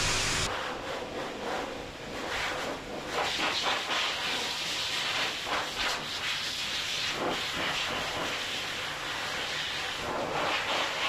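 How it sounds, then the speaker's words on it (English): A blow dryer drying a Maltese dog's coat during grooming, a steady close airy hiss that shifts in tone as the airflow moves over the fur, with no voices. "I'm going to go ahead and finish blow drying him"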